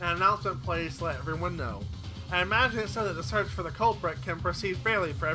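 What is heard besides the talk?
None of the usual background noises is heard.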